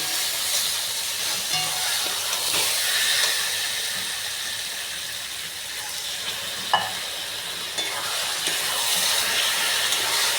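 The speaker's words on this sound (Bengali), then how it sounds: "কষানো আমার হয়ে গেছে, তেল ছেড়ে গেছে, এবার দেবো জল।" Water added to a hot pan of fried egg and fat curry sets off a loud, continuous hiss of steam and sizzling that stays steady throughout, with a faint clink partway through.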